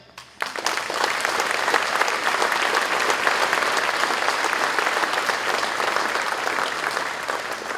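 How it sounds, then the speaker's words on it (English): An audience at the Packshed launch event breaks into sustained applause, a dense, steady clapping from a sizeable crowd lasting several seconds with no talk over it. "Can I ask for a round of applause for Peter Gillen, his wife, and their 4 children"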